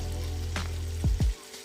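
Seasoned salmon cuts sizzling in a hot pan, a steady frying hiss over a low hum, with a couple of quick sliding scrapes near the end.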